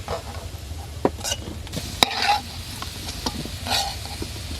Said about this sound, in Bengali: এবার ফুলকপিটা ভালো করে ভেজে নেব।